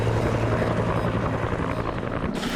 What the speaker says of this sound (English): I think these helicopters are here for you